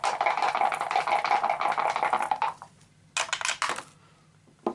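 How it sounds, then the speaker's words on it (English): Dice roll across a table during a Runebound third edition board game, giving a long rattling clatter, a short pause, then a second brief burst of tumbling clicks, close and fairly loud. "we're going to roll"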